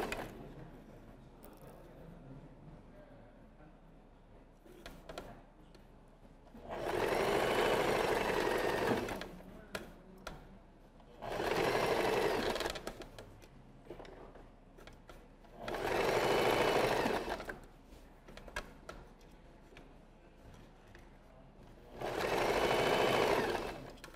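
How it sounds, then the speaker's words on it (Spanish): A sewing machine running a straight stitch along a dress sleeve edge, four bursts of steady, rapid whirring of several seconds each, separated by quiet pauses. "Y cosemos con recta."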